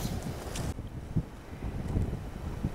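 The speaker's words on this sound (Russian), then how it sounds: "Очень сильный ветер." Very strong wind buffets the microphone outdoors at a metal-detecting dig. It makes a low, gusty rumble that surges and eases, with no one speaking.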